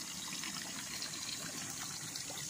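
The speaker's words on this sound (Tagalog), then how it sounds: "titingnan nyo po yung mismong tubig nandyan sa nanggagaling sa lupa maagos po siya" Cold, clear spring water flows steadily from the ground at a farm lot beside a river, a continuous soft trickling wash with no voices.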